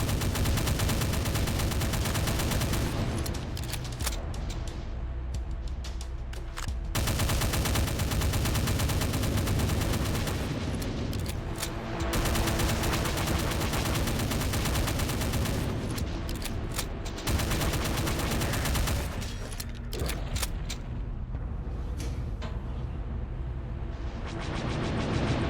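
Sustained gunfire in the video game Doom II, a dense, loud, continuous barrage of rapid shots and blasts with brief dips, no talk over it.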